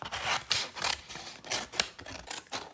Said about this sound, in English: And then I'm just going to cut out the circle.